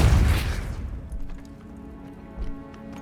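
A Depulso spell is cast in Hogwarts Legacy, opening with a loud, close burst or blast that fades quickly. A couple of faint, softer knocks follow.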